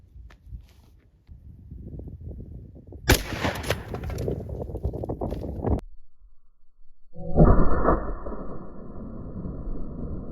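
A 12 gauge shotgun fires a 3-inch hull loaded with long shot powder and 1 7/8 ounces of lead: one sharp, loud blast with a brief decay, amid handling noises and a steady hum afterward.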